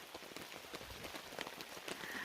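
Rain falls steadily outdoors during a fishing outing in the woods, a soft continuous patter of drops striking surfaces, fairly faint and even throughout with no talking.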